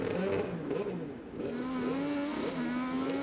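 An IndyCar engine idling on pit road, a steady close mechanical drone with a wavering pitch under a faint, indistinct voice.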